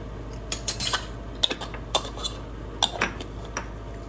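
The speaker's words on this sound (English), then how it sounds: "Just stir it up" A spoon stirs salt and pepper into a homemade old-school pizza mixture, ringing out in sharp, irregular metallic clinks against the bowl, close and clear with no talking.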